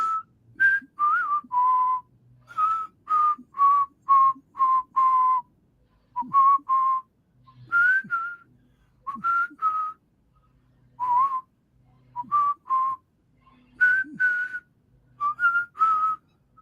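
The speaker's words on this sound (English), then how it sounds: "I think I can get the tune across better if I whistle." Someone whistles a melodic tune in short phrases of quick notes with brief pauses between, close and clear, no talking.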